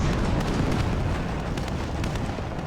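Explosions and artillery blasts from the military strategy video game WARNO roar in a dense, continuous barrage of loud booms and rumbling bursts, with no talking.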